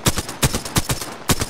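Gunfire in an Apex Legends match: four loud, close bursts of rapid shots spaced apart across a short stretch, with no voices.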